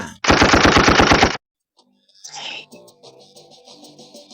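Machine-gun sound effect played on a radio news broadcast: a loud rapid burst of about a dozen evenly spaced shots lasting roughly a second, followed by silence and then a faint musical sting.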